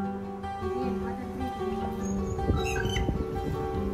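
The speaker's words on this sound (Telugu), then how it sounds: "ఆ దాని అరుపు కూడా బలే డిఫరెన్స్ గా ఉండండి ఆ పక్షి" A bird calling at a farmhouse, heard as short chirps and squawks over a continuous background of hum and other sounds.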